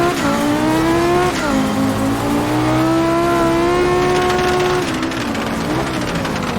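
An Audi Group B rally car drives over a rough road, its engine droning loud and close with pitch rising and dipping as it shifts through revs, the ride rattling underneath.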